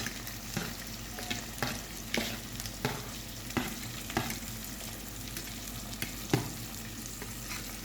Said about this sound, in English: So I'm sauteing this, and I'm going to be adding a little vinegar.